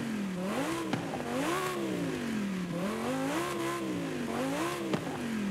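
A Lamborghini Huracan engine in Forza Horizon 5 revs repeatedly, its note swooping up and down in close, loud, continuous waves with no talking.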